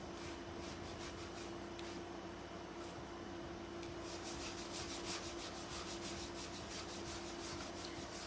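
Wax being rubbed by hand over a jelly bean mason jar: a steady, soft, continuous rubbing and scraping that stays at an even, low level throughout, with no talking.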